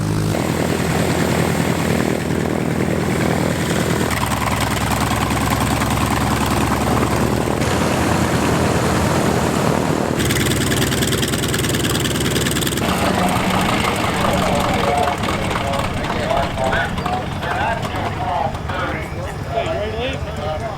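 Aircraft engines run loud and close on an active taxiway at an airshow, a steady roar filling the whole stretch with shifting tone as machines pass, while a person talks over it.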